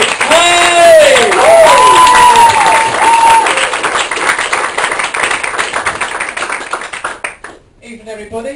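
A crowd applauds loudly with whoops and cheers at the start, the clapping thinning and fading before stopping.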